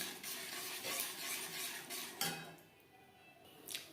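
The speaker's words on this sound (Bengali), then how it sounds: "এইভাবে বেশ ভালো করে মিক্সড করে দেব।" A utensil stirs paneer into a tomato gravy with milk in a pan, giving steady scraping and soft clinking against the metal with a faint sizzle, continuous for a few seconds with no voices.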